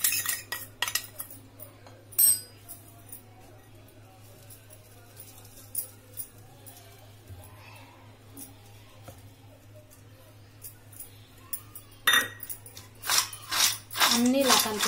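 Potato finger chips being tossed with chaat masala in a bowl, scattered light clinks and scrapes of a utensil against dishware, sparse at first and busier near the end, with a voice talking over it.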